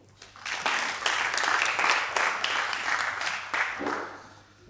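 A studio audience at the Grand Café show claps loudly to welcome guest Victoria Ouedraogo, the applause swelling in after a quiet start, holding steady, then tapering off.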